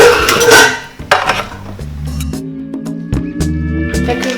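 Metal pots and pans clank and scrape close by in a kitchen as a pot is readied for boiling pasta water, with a few sharp knocks followed by ringing metallic resonance as they're set down.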